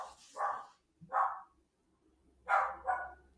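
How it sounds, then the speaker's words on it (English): A dog barks indoors in four sharp, moderately loud barks in two pairs, spaced with brief pauses and no talking over them. "The dog's off again."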